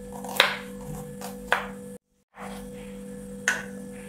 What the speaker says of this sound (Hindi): सबसे पहले हम प्याज को कट कर लेते हैं, इसके हम लंबे लंबे स्लाइसेस कट कर लेंगे।